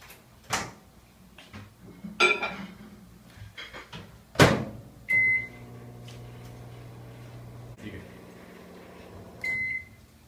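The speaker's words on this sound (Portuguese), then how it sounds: "eu vou botar o leite no micro-ondas" A kitchen microwave oven heating milk: a cupboard or door thuds and clunks, then the oven hums steadily with two short beeps, loud and close.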